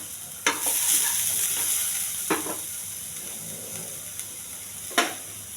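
Ginger and curry leaves frying in a pan with a steady close hiss of hot oil, broken by a few sharp scrapes of a spatula, with no voices.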